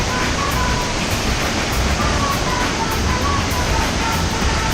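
Waterfall at the end of a hiking trail in Costa Rica, a steady, dense roar of falling water that stays loud and unbroken throughout.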